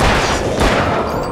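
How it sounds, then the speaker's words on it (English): Booming rifle fire in Alan Wake, with two heavy reports in quick succession blending into a loud, muffled rumble that fills the whole brief moment. "I'm wasting rifle ammo."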